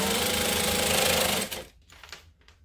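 A sewing machine runs steadily for about a second and a half while top stitching the edges of gusset pieces, then stops, leaving only faint handling noises close by.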